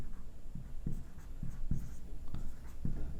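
Pen writing a ratio by hand on paper, heard as a close series of soft scratchy strokes with regular taps roughly every third of a second, quiet and with no talk.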